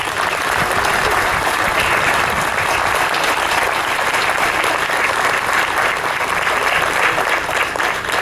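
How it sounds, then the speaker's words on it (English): Audience applause at an outdoor Fourth of July concert by the Greenville, Ohio municipal band: dense, steady clapping from a sizeable crowd that holds evenly for the full eight seconds. "So if I could just get you to give a nice little round of applause to Dale Musser."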